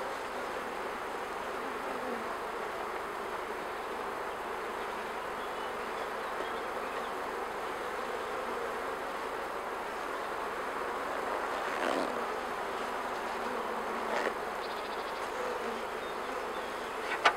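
A honeybee colony at an opened hive gives off a dense, steady drone that holds at an even level throughout, close and unbroken, with no speech.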